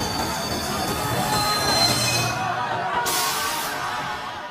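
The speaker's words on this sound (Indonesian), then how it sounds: "Tapi beruntungnya kereta itu berhasil berhenti tepat di depannya." A train squeals its wheels on railway tracks as it brakes to a stop, a sustained metallic screech under a broad rumble, with faint crowd babble in the background.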